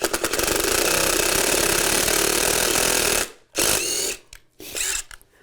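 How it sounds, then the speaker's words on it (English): A power drill driving a screw into concrete while installing a pocket door frame, a loud continuous rattling whine for about three seconds, then stopping and restarting in a few short bursts. "Let's get a second screw in just so this thing isn't sliding around on us."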